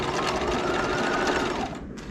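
A sewing machine edge stitches along a seam, a fast, even mechanical whir running close and loud for about two seconds before slowing and stopping.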